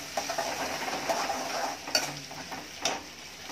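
Salted food stirred in a pan over a high gas flame, with a steady sizzle and scraping strokes of a utensil against the pan, plus a couple of sharper clinks.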